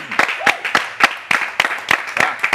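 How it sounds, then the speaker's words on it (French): A studio audience on a French television arts talk show claps for arriving guests: sparse, evenly spaced handclaps at a steady quick rhythm, moderately loud and close, with no talking. "et nous recevons Emerson et Denisia Nyangon, pour qui je vous demande d'applaudir."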